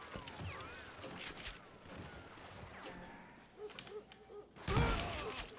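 Gunfire from the Call of Juarez Gunslinger video game, with a few sharp shots amid game ambience and creaks. The loudest shot comes near the end.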